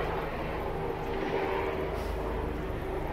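A helicopter passes overhead outdoors near an apartment courtyard with a koi pond, its low, steady engine and rotor rumble droning continuously at moderate distance with no voices.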